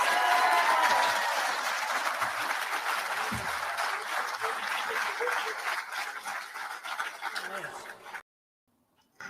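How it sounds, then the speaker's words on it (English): Audience at a live talk show on Scottish constitutional reform breaks into a round of applause, sustained clapping that fades gradually and stops abruptly, leaving near silence before a voice resumes. "You almost get a round of applause when you say, let's sack the government."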